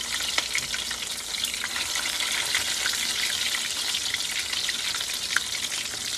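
Homemade meatballs fry in a hot pan, giving a steady, close crackling sizzle with scattered sharper pops throughout, alone without any talk.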